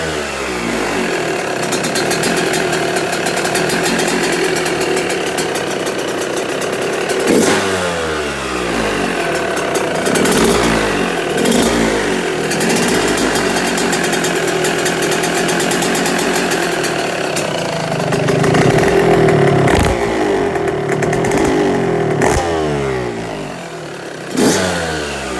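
Yamaha YZ 125 motocross bike engine running low on fuel, a loud, close two-stroke drone that sputters and cuts out repeatedly, with sharp dips and surges in revs across the whole stretch, no talking.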